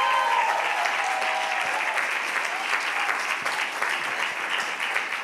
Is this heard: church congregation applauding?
yes